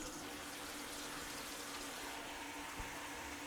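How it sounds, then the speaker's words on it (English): Water runs from a Hansgrohe sink tap in a steady, faint rushing hiss that stays even and continuous throughout. "You can hear the water coming out."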